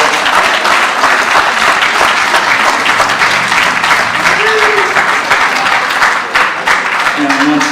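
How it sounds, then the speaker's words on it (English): Sustained applause from a large audience at a school eighth-grade graduation ceremony for the class of 2024, steady and loud throughout, with faint voices and a brief cheer mixed in. "Let's have another round of applause for this class of 2024."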